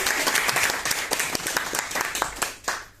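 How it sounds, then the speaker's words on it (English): A small group applauds at a Toastmasters meeting, dense rapid clapping that holds steady for a few seconds before thinning out and fading. "Let's give a big round of applause."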